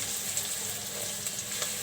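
Bottle gourd cooks in plenty of hot oil with tilapia fish, a soft, even frying hiss that stays faint and unbroken for a couple of seconds.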